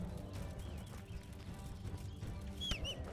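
Horse hooves clopping in the video game Kingdom Come: Deliverance, a steady run of soft thuds under busy game ambience, with a brief whinny-like cry near the end.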